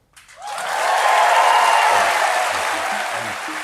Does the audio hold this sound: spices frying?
no